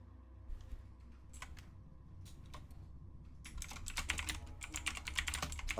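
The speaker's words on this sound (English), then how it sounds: "and now we hear typing" Rapid typing on a computer keyboard during an online Fallout tabletop role-playing session: a few scattered key taps, then a dense burst of quick clattering keystrokes, close and fairly loud with no talk.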